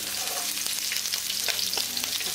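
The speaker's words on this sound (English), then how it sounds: "So I'm going to add some garlic here." Garlic fries in hot oil in a pan for curry fried rice, a constant bright sizzle with faint crackles and a few soft stirring scrapes, close and steady throughout.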